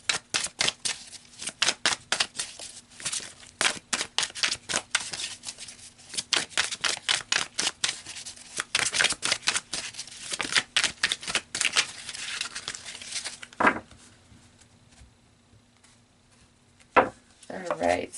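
Tarot cards shuffled in a long run of dense, rapid riffling clicks and slaps lasting over ten seconds, followed by a few separate snaps as cards are drawn, close and fairly loud with no talking.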